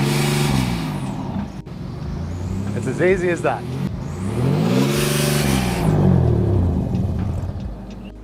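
Ford Ranger NextGen fitted with a 4-inch exhaust revving, the engine rumble rising and falling in a couple of swells, with someone talking briefly over it.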